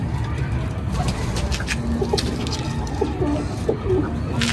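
A female Andha pigeon of a high-flying breed gives soft, low coos in short repeated phrases close by, over steady background noise.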